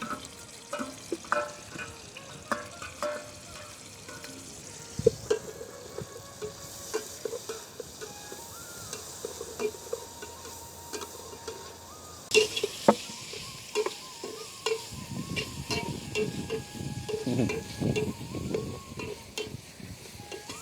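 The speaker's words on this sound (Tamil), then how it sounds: "வெங்காயத்தையும் தக்காளி பழத்தையும் ரொம்பவே உண்டா போடுவோம்." Onions and tomatoes frying in oil while a spoon stirs them in a pot at an outdoor forest cooking spot, with a steady sizzle, scraping stirs and a rhythmic burst of stirring near the end.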